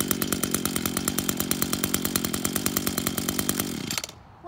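An Echo SRM230s two-stroke string trimmer runs with a loud, buzzy, steady rattle and rhythmic pulses, close by, then cuts off abruptly near the end.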